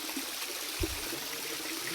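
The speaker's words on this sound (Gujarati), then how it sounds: "પાણી આવી રીતે પડે છે." Water pours down at the hidden Kadamgiri waterfall, a steady broadband rush that holds evenly throughout, with one brief low thump partway through.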